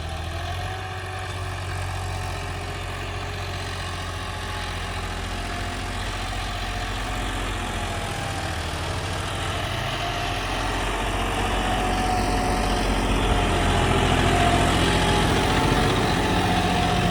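A John Deere 5210 tractor with radial tyres runs in first gear, its diesel engine droning steadily and fairly close throughout, swelling slightly louder toward the end.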